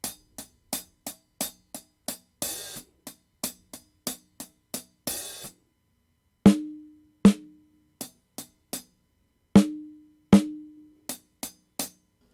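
Hi-hat cymbal picked up by a microphone placed far from the snare: crisp, short ticks in a steady pattern, with a few open, washier strokes and some louder, ringing hits, heard alone with no talk.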